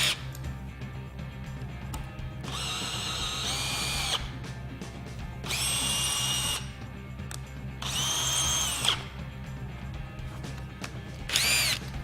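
Power drill driving a GRK Caliburn pan head screw, with four loud high-pitched whirring bursts of one to two seconds each. Short quiet gaps separate the bursts, and nobody speaks.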